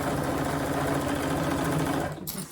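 Close, loud and continuous whirring of a sewing machine as it stitches a crossbody bag panel, running evenly for about two seconds before stopping abruptly.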